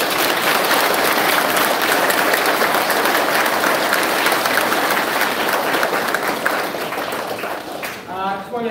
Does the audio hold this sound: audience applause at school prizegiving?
yes